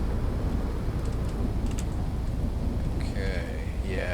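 Rain falls in the video game Everwind as a steady broadband hiss, with faint whistling tones near the end.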